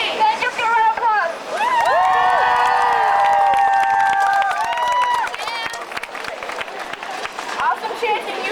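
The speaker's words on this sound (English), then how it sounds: "Awesome chanting, you guys" A crowd at a 2004 campus rally for emergency contraception access cheers and shouts in unison, loud and close. Scattered clapping and crowd noise follow as the cheering settles.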